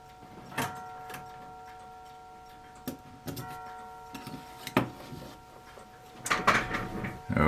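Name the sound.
mantle clocks ticking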